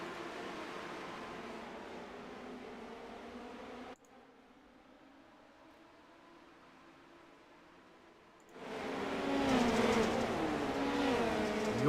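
Midget sim race cars at Lanier drone at first, go nearly quiet for a few seconds, then break into a loud, broad roar as the field accelerates at the green flag start.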